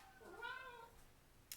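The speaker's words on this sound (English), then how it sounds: "that was my cat if you guys heard it" A house cat gives a single clear meow, rising then falling, fairly close and alone in a quiet indoor room, followed by a faint click.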